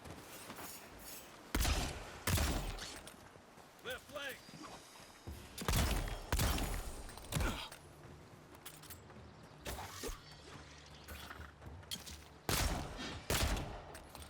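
Pistol shots in a video game, sharp bursts fired in uneven clusters with pauses between them, over a low background and a talking voice.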